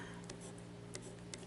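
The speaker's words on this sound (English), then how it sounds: "it writes really well" A Jinhao fountain pen with a fine steel nib scratching across paper, a faint close rasp with a few light strokes standing out against a quiet background hum.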